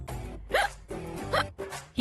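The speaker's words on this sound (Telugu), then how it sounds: "ఏంటా ఎక్కిళ్ళు? నీళ్లు తాగినా ఆగటలేదు." Repeated hiccups from a person in a Telugu TV serial scene, coming in a steady rhythm of sharp catches about every three quarters of a second, close and fairly loud, with no talk over them.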